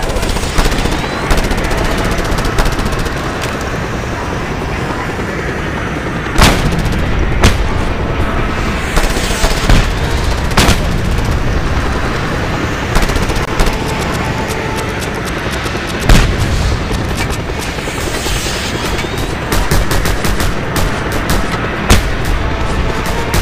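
Gunfire and explosions in Just Cause 2 gameplay: rapid bursts of automatic fire punctuated by repeated heavy booms, loud and dense throughout, with occasional engine noise beneath.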